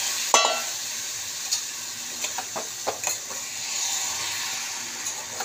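Boiled taro pieces added to a hot pan and frying, a soft sizzle punctuated by sharp scraping and spatula clicks, close by, with no talking.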